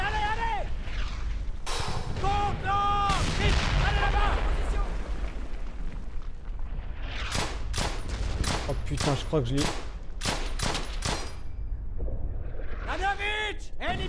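Gunfire in the World War II shooter Brothers in Arms: Hell's Highway, bursts of sharp shots and heavy booms running steadily through a busy battle soundscape under loud excited talk from a player.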